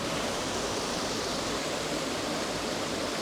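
Talla Falls at Talla Reservoir roars on a rainy day, a constant broadband rush of falling water close by, steady and loud throughout with no break or voice.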